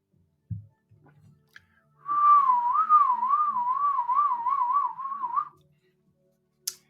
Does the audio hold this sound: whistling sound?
yes